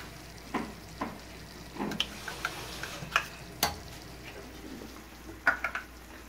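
A milk, flour and cream mixture stirred in a pan, with repeated soft scrapes and clicks of the spoon against the pan over a faint steady sizzle, close and fairly quiet, no talking.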